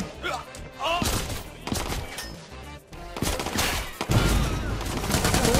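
Gunfire from the video game Watch Dogs 2: bursts of loud, close shots and rapid volleys crack through a dense mix of game sound, with a heavy blast near the end.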